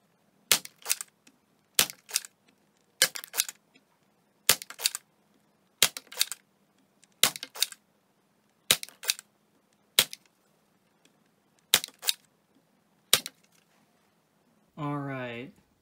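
A NERF Elite 2.0 Trailblazer blaster fires Elite darts in a steady series of eleven sharp, snappy shots spaced about a second and a half apart, each a crisp pop with a short rattle. A brief whirring sweep follows at the end.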